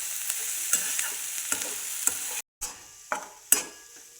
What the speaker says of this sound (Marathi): असा कांदा सारखा हलवायचा